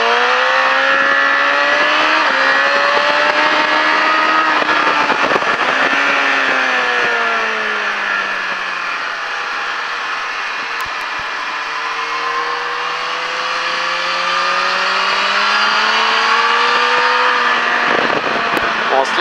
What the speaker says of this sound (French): on relève bien la moto et on accélère